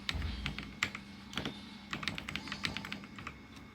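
Fast keystrokes on a computer keyboard while a Cisco router command is entered, a quiet run of distinct clicks in short irregular bursts, close up with no talking.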